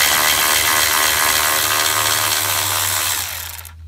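A Milwaukee power tool spins loose the bolts on the inverter cover of a 2004 Toyota Prius in one steady, close whirring run that slows and cuts off near the end.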